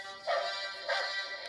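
A toy dog dressed in a Darth Vader outfit gives electronic barks to a tune, with two clear, tonal bark notes about half a second apart at a moderate, close level.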